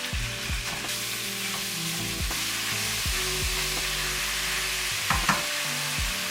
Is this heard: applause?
no